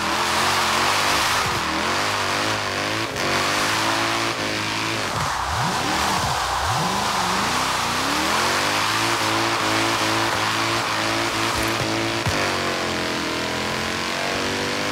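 V8 car engine in Forza Horizon 3 revving hard and burbling, loud and close, with pitch swooping up and down through gear changes and throttle blips, plus brief tire squeal.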